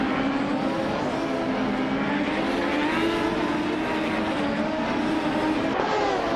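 A Lola T9500 race car runs at steady pace mid-race, its engine a continuous, loud droning roar with shifting harmonic whine throughout, never dropping away.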